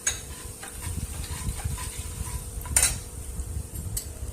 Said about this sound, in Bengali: কালো জিরেটা একটু নেড়ে নিয়ে তার মধ্যে হলুদ গুঁড়ো, লঙ্কার গুঁড়ো দিয়ে একটু নেড়ে নিলাম